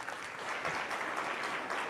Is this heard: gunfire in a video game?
no